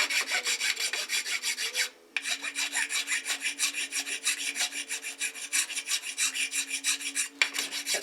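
A hand file rasps back and forth in quick, regular strokes, close up, pausing briefly twice before the rhythmic scraping resumes.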